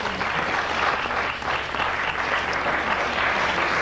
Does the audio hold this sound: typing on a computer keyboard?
no